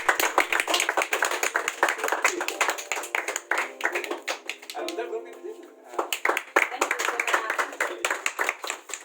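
Individual claps from a small audience ring out in a brisk, uneven patter at a gift presentation. A voice speaks briefly partway through before the clapping resumes.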